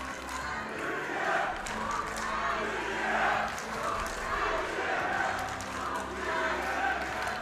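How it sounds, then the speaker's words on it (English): Spectators at a world masters and para right arm wrestling final yell and cheer for Ukraine and Turkey, a dense, steady roar of many voices filling a large hall. "You can hear in the crowd, Ukraine and Turkey yell from the spectators."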